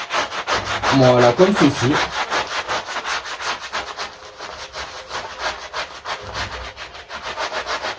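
Soft-bristle brush scrubbed back and forth over a car engine's sound-insulation pad, giving a steady rhythmic rubbing rasp throughout, with a brief voice over it early on.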